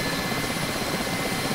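A Mil Mi-8 MTV helicopter in the DCS flight simulator gives off a steady, dense rotor and turbine drone, constant and even in level, with no talking over it.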